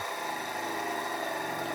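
A 220 V, 50 Hz electric motor runs powered from two batteries, giving a steady close hum with a high whine and slight vibration, continuous throughout.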